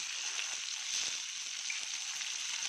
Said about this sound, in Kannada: ಇದನ್ನು ಸ್ವಲ್ಪ ಬಾಡಿಸ್ಕೊಂಬಿಡೋಣ. ಸ್ವಲ್ಪ ಫ್ರೈ ಆದರೆ ಸಾಕು.